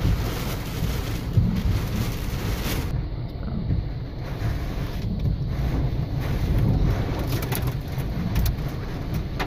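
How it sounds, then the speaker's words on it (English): Tropical Cyclone Debbie batters Airlie Beach with gusts over 100 km/h, a loud continuous roar of wind buffeting the microphone mixed with driving rain, surging and easing through the clip. "Tropical cyclone Debbie approaches. It's not far away from the coast now. Getting gusts well above 100 kilometres an hour."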